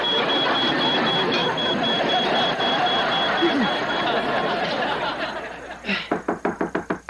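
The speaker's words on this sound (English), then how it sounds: "That sounds like the smoke alarm." A smoke alarm in an American sitcom sounds near the end as a run of rapid, evenly spaced electronic beeps, about eight pulses, after a stretch of dense noisy background.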